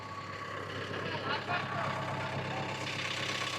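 A JCB backhoe's diesel engine idles with a steady low rumble throughout, holding an even level with slight fluctuations.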